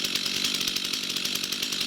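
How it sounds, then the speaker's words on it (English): A chainsaw buzzes steadily at high pitch, cutting down a large garden tree continuously at a moderate distance with a constant whine. "And chainsaw coming away in the background."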